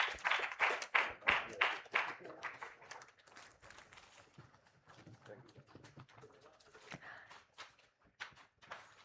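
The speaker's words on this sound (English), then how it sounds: "A big round of applause for Dr. Parandaman, Department of Medicine" Audience applause at a Hypertension Day medical event, a burst of brisk clapping that fades after a couple of seconds, followed by scattered lighter claps and murmuring under a voice.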